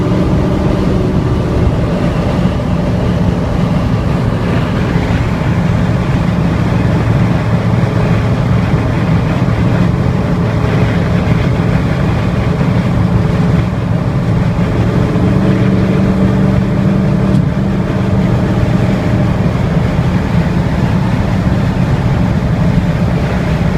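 An early Ford Bronco with a misfiring engine cruising at speed in third gear, a loud continuous rumbling drone of engine and road noise that fills the whole stretch with no break.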